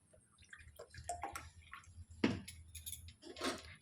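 Milk poured into a semolina batter in a home kitchen, with soft close splashes, drips and squishy wet sounds in short irregular bursts, including one louder splash in the middle.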